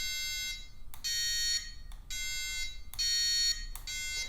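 Negative tone from a power probe circuit tester: a steady high-pitched electronic tone that alternates with a brighter buzzing tone in pulses roughly every half second, close and loud with no talk.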